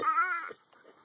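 A voice imitates a sheep's bleat with a drawn-out, wavering "baa" lasting about half a second, followed by quieter murmuring.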